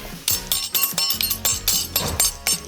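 A hammer hits a stuck part on a BMW X3 diesel engine in a repair shop. About ten rapid, loud metallic clanks ring out in under three seconds.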